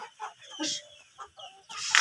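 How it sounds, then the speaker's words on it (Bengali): Four-month-old Egyptian Fayoumi hens on a farm cluck in short, separate bursts close by, giving the calls they make at egg-laying time, with a louder squawking cluck at the end. "শব্দ করতেছে ডিম পাড়ার যে সময় আসলে যে শব্দ করে ওই শব্দটা করতেছে"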